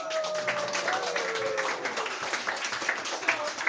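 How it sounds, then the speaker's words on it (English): A round of applause at a potluck dinner party for the flower girls, soft, steady clapping from a small gathering heard at a distance, with a voice speaking faintly underneath. "So please give them another round of applause."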